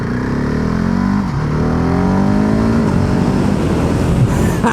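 A 2020 Husqvarna 701 SuperMoto motorcycle accelerates hard up through its gears, the close, loud engine note climbing and resetting with each shift, plus steady wind noise.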